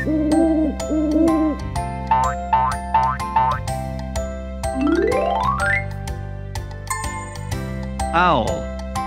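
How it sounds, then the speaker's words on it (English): A cartoon owl hoots briefly at the start of an animated children's clip, followed by a run of springy boings, a rising slide-whistle effect and tinkling chimes, all bright and close. "owl."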